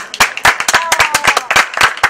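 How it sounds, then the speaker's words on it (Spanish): Studio audience clapping to welcome a guest on a TV talk show, a close, brisk burst of hand claps lasting about two seconds. "¡Aplausos a la señora Grimilda!"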